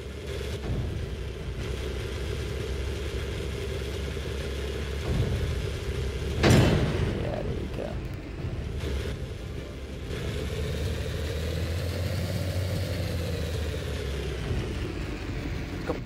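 A heavy tank engine in a video game rumbles and revs steadily, its pitch rising and falling, with one sharp loud bang near the middle.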